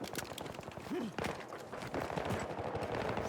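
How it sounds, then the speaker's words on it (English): Video game gunfire crackles in rapid, repeated bursts of sharp shots, fairly quiet and continuous, mixed with other game sounds and a brief tonal chirp. "They're shooting at me."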